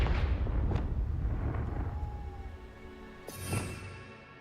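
A Confringo blast spell from Hogwarts Legacy erupting in a burst of low rumbling explosions, followed by a fading crackle and a second sharp pop near the end.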